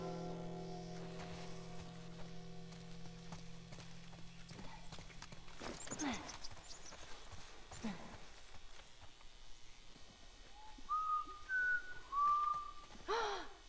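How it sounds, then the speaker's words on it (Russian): A character in the video game The Last of Us Part I whistles a few short, clear tonal notes near the end, following hoofbeat-like clopping and rustling ambience at moderate volume. "Я могу свистеть."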